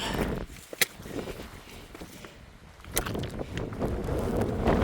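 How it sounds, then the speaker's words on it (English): Wind gusting across an exposed mountain peak on the Appalachian Trail's Bigelow range, a broad rushing roar buffeting the microphone, rising and falling, with faint crunching steps and a sharp knock or two. "Wind's picking up."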